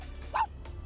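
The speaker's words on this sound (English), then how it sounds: "What about the tiny dog?" A short, high yip of a tiny dog from an animal sound toy, one quick bark standing alone, fairly near and moderately loud.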